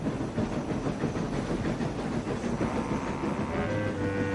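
Toy steam engine modelled on Thomas the Tank Engine running along rails, a steady close rattling clickety-clack with chuffing hiss that stays loud and even throughout, a faint tonal hum joining near the end.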